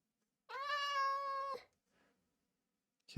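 A cat in the Minecraft video game gives one clear, drawn-out meow, close and alone, followed by silence and a faint second sound at the very end.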